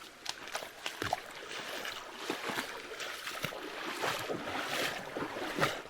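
Feet wading across a river at the start of a wet waterfall hike, with steady splashing and sloshing water that rises and falls in irregular bursts close by, with no talking.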